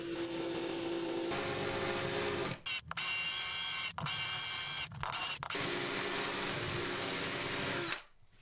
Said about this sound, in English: I'm going to use a 3/8 inch tile bit, try to get through those, hopefully not break the tile.